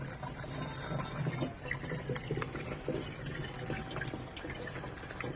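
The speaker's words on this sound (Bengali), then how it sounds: "আমি জল ভরতে দিয়ে দিলাম" A container is filled with water for watering hibiscus plants in a rooftop garden, a steady, moderately loud stream that pours on without a break.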